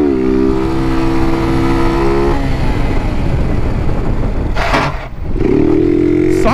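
Loud, close engine revving from a kitted Honda CG motorcycle doing wheelies, with strong harmonic whine rising and holding, a brief dip near the end, then a sharp rev back up.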